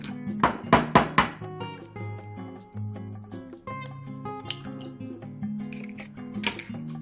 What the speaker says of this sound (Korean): 계란을 깨뜨려 주세요